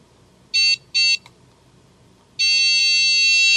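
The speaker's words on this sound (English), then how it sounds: "One other useful feature is the tone that it makes between the ground and the positive." Autel PS100 automotive electrical tester giving its continuity tone while probing a relay: two short, loud, high beeps, a pause, then one sustained steady tone, close and clear over quiet background.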